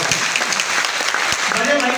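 Loud, dense clapping from a seminar audience at a marketing talk in a polytechnic college, a steady burst of many hands close by with no spoken words.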